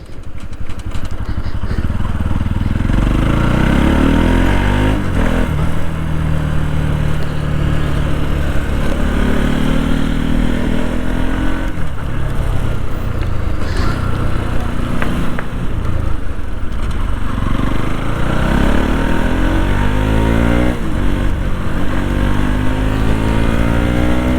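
A Bajaj Pulsar NS200 motorcycle engine roars continuously, revving up and down repeatedly, loud and close, with a rushing wind and rain noise underneath during a ride in the rain.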